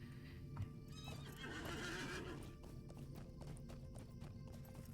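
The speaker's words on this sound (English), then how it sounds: "We're going to get on our horse to do this." Horse in the Lord of the Rings Online game neighs loudly and whinnies, with clip-clop hoofbeats running steadily through the scene, close and prominent with no talking.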